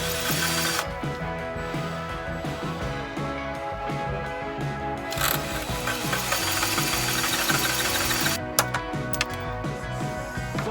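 A power drill bores through metal on a combine harvester being repaired, its whirring motor grinding steadily with ratcheting, knocking rattles throughout, loud and close, with brief pauses and changes in pitch as the bit bites.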